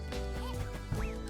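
Birds in the game A Hat in Time quack close by in a quick, loud burst of nasal calls, heard over a steady musical background.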